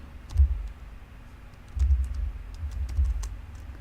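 Computer keyboard typing while patient information is entered, in short bursts of clicking keystrokes separated by brief pauses, close and moderately quiet, with no talking.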